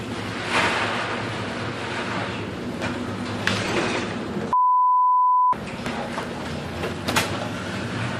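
A stormy sea churns with waves and wind, a steady loud roar of surf and gusts. A one-second electronic beep tone briefly replaces it midway.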